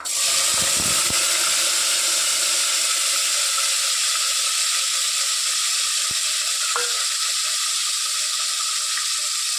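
Tomatoes and curry leaves hit hot oil in a village kitchen while a country chicken curry is being made, giving a steady loud sizzle that hisses through the whole stretch, with a few brief stirring knocks and no talking.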